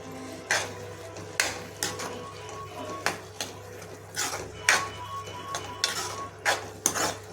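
Mushroom curry being stirred in a pan: a spoon clinks and scrapes against the pan in repeated sharp strokes at an irregular pace, close and fairly loud over a low steady hum.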